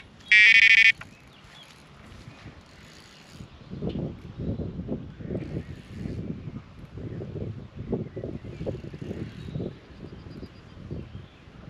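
A carp fishing bite alarm beeps once in a short, shrill electronic burst at the start, followed by rustling and breathy wind noise outdoors by the water.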